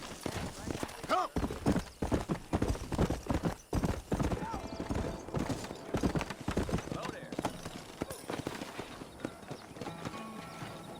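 Horse hooves clip-clop and trot steadily in the video game Red Dead Redemption, close and busy, mixed with voices calling out over the clatter.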